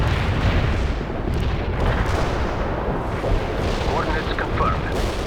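A dense, continuous rumble of artillery barrage explosions fills the battlefield of the World in Conflict video game, heavy and loud throughout with overlapping booms, while a radio voice speaks over it.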